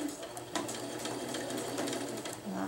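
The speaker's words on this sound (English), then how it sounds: "if I stop when I'm sewing, my needle will stay down and prevent slipping" A sewing machine stitches along the edge of tarp fabric for winter tarp tie-outs, running with a fast, steady mechanical whir and rapid needle clatter, with a few brief pauses and changes in pace.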